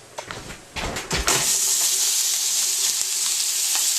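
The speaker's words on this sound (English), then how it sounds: "And now into the iron skillet for 2 minutes on a side." A seasoned filet mignon goes into a hot iron skillet. A few clattering thuds are followed by a sudden loud sear, and the hiss then holds strong and steady to the end.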